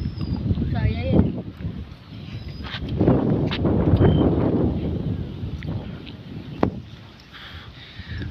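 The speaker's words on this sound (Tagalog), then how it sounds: "Lakas ang hangin dito." Strong wind buffeting a microphone on a boat out on the water, with gusty low rumbling and bursts of noise over the hull's movement and occasional thumps.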